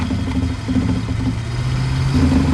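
A 1969 Ford Mustang Grande's 302 V8 runs with a quiet muffler, giving a steady, loud, low rumbling drone with slight rises in pitch, close up and with no talking.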